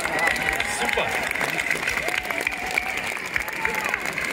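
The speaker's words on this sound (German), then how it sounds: "Und Applaus, ihr wart großartig." Outdoor crowd applause for dancers at a New Year's Eve open-air ballroom in Vienna, a steady wash of clapping and crowd noise over about four seconds with faint voices and tonal sounds mixed in.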